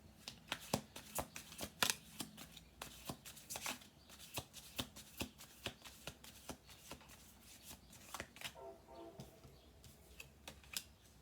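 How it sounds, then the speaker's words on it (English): Tarot cards shuffled by hand in a steady run of crisp riffling flicks and soft slaps, close and fairly quiet, ending in a brief fluttering cascade. "10 cards, 1 more shuffle through."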